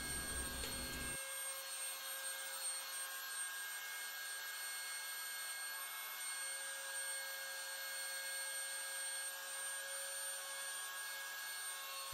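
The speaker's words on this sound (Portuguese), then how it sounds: "Olha aí eu lixando de novo para dar aquela precisão" Sanding the rosette on an acoustic guitar top, a steady, fairly quiet whir of a rotary sanding tool against wood that runs without a break, with no voices.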